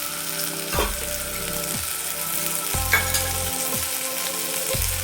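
Onions frying with garlic-ginger paste and chili powder in a home kitchen, a steady close sizzle broken by several stirring scrapes and clacks against the pan, with no talking.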